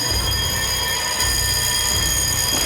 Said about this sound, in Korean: 드디어 화재 경보기가 울리고